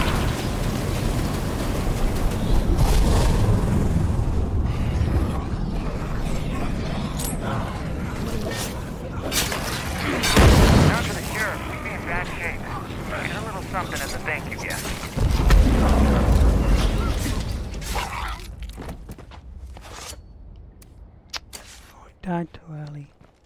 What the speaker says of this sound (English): Of course, napalm grenades will do it.